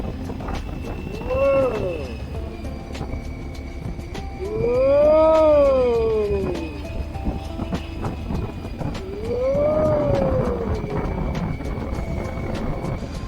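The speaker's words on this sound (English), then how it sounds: "Sometimes you just gotta shout into your helmet." A motorcycle rider on a long downhill road with sweeping bends in Thailand shouts into a helmet three times, drawn-out rising and falling yells over steady engine and wind noise.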